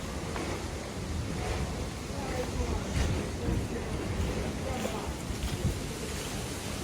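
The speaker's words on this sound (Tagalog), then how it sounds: "Grabe ang hangin." Strong wind blows outdoors, a constant broadband roar buffeting the microphone for the whole stretch, with no clear voices over it.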